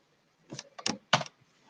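Three short bursts of keyboard key clatter, close and fairly quiet, separated by brief pauses.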